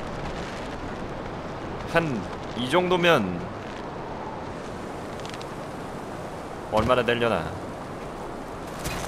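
A huge waterfall in the stone-age survival game Far Cry Primal roars as a steady, broad rushing wash through the whole stretch, with someone talking over it in two short bursts.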